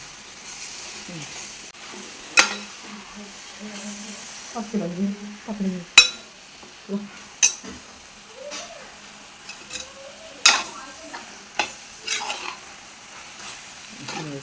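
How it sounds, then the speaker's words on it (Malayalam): Clam meat stir-fry sizzles gently in a pan while being stirred, with repeated clinks and scrapes of a spoon against the metal, close by, and a voice speaking intermittently in between. "എന്നാലും ഇനി ഒന്ന് ഇളക്കി ഒന്ന് മിക്സ് ചെയ്ത് കൊടുക്കണം"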